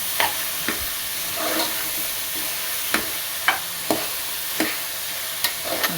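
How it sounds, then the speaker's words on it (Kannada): Beetroot palya sizzles softly in a pan while a spoon stirs it. About a dozen distinct scraping strokes punctuate the steady frying hiss at a fairly regular pace, close and without speech. "ಬೀಟ್ರೂಟ್ ಹಾಕಾದ್ಮೇಲೆ ಈ ಥರ ಚೆನ್ನಾಗಿ ಮಿಕ್ಸ್ ಮಾಡ್ಕೊಬೇಕು"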